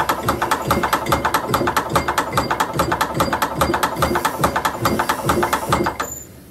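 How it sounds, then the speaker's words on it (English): A hand-cranked leather belt hole punch machine feeding a leather strap, a fast, even train of ratcheting mechanical clacks turned briskly, loud and close, stopping abruptly near the end. "you want to turn the handle fairly hard or fairly briskly as it feeds the leather through the machine"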